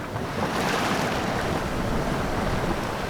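Steady wind and rushing ocean waves around a sailboat running under spinnaker on the open sea, a loud, continuous wash of water and wind buffeting with no clear breaks.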